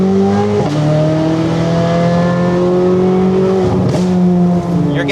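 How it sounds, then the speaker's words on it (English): Corvette C8 Z06 with a full titanium exhaust accelerating through the gears: loud, close engine roar rising in pitch with quick shifts, and light crackles near the end. "You're gonna get those nice cracks and pops when you let off the accelerator."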